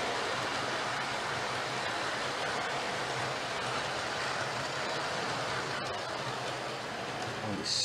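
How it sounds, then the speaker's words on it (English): A model HST train on a layout runs past at speed, giving a steady, loud, continuous rumble with a faint clatter throughout, ending in a brief higher squeal. "there's the HST coming through a bit faster"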